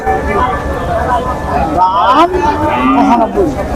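Cattle lowing at a busy livestock market in Tebaria, Natore, several loud close moos rising over steady crowd chatter and market background noise.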